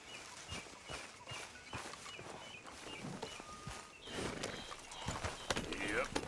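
Horse hooves clip-clopping in the video game Red Dead Redemption II, soft rhythmic steps at a walk that grow a little louder toward the end, with an outdoor ambience, occasional birds and voices talking over them.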